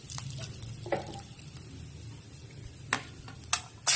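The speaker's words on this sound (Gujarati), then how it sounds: "તેલ આપણું ગરમ થઈ ગયું છે। હવે એમાં આપણે જીરું નાખી દઈશું।" Cumin seeds are dropped into hot oil while a paneer masala is being cooked, giving a faint low crackle with a few sharp pops and clicks scattered across the moment, with no voices.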